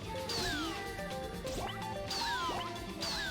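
Cats in the video game Katamari Damacy meow repeatedly in short, rising and falling cries, a few calls overlapping over busy game sounds and music.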